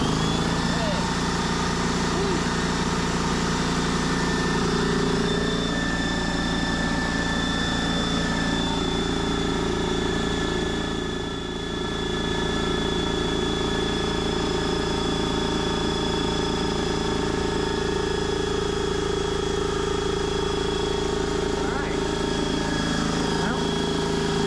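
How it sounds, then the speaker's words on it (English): An air compressor plugged into boat power runs with a continuous steady mechanical hum and drone, nearby and unbroken for the whole stretch, with only a brief dip midway. "Now I went ahead and put my compressor plugged in."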